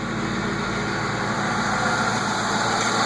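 A Ford Mustang GT with the 4.6 2v V8 idles at close range, putting out a smooth, steady low rumble with an even rhythm and no talking.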